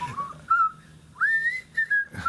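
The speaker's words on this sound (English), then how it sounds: "now I'm whistling." A person whistles a wavering melodic tune up close, with short sustained notes separated by brief pauses.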